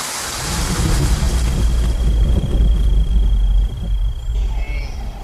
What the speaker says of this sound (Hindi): बारिश इन अस्थायी पूल्स को मीठे पानी से भरा रखती है।